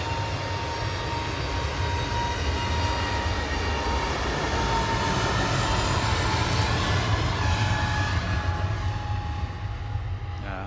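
An aircraft taxiing at Manchester Airport, its engines giving a steady, continuous rumble and whine that holds even and moderately loud throughout, with no voices.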